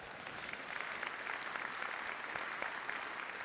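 A crowd applauds steadily and densely during a climate change talk in St. Paul. The clapping is sustained and even for the whole stretch, with no speech.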